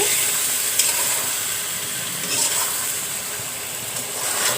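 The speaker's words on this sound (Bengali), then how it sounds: "তারপরে এবার আমি গোছগুলো একটু লাড়াচাড়া করে দেব" Qurbani meat stirred in a cooking pot, a steady close sizzle and hiss of frying with soft scraping stir strokes, no talking.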